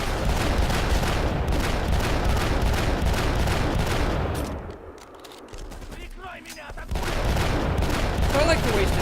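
Rapid, dense gunfire in the shooter video game Black, loud and continuous for several seconds, then a brief lull with quieter mechanical clicks before the shooting resumes.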